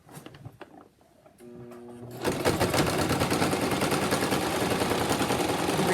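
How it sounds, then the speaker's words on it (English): Sewing machine stitching down the pleats of a simple fabric mask: a faint start, then from about two seconds a loud, steady rapid chatter of the needle running continuously with no talking. "as you're passing it through the sewing machine, it doesn't catch"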